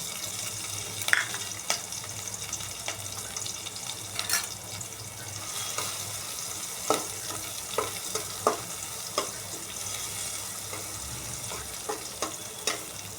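Chopped garlic, ginger and green chilli fry in hot oil in a pot on the stove, a steady low sizzle broken by frequent sharp clicks and scrapes of stirring.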